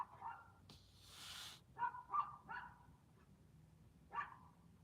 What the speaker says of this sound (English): There goes somebody's dog, I saw this barking.